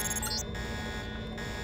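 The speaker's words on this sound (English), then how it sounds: "The alarm just closed the north door." A Deus Ex video game alarm drones as a continuous loud buzzing tone with steady harmonics, briefly joined by higher electronic chirps near the start and again later.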